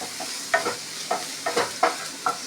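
A broccoli pepper fry is stirred in a hot pan, a spoon scraping and tossing the pieces in five or six quick strokes over a steady sizzle, close and clear with no talking.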